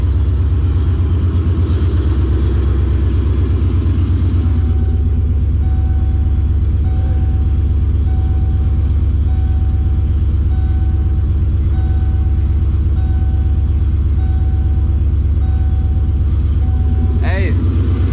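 A Ford Coyote V8 swapped into an SN95 Mustang runs on its first start, a steady deep engine drone held loud and close, with a brief throttle blip near the end.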